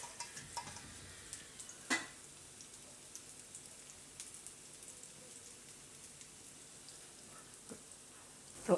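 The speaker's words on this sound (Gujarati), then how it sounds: "આ રીતે જેટલા હમાય એટલા આપણે મૂકીને શેકી લેવાના. એક બાજુ થઈ જાય પછી ફેરવી લેવાનું એને." Soya wadi kebabs shallow-fry in a pan with a soft, steady sizzle and crackle, broken by occasional light clicks and taps of utensils against the pan.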